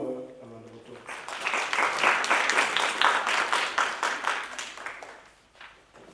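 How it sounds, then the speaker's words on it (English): Audience applause at a district road safety debate competition, rising after a brief voice into a sustained crowd clapping for several seconds before tapering off. "May we please give him or her a round of applause."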